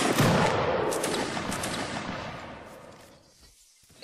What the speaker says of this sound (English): Alright, so there's enemies there. Shoot and kill them.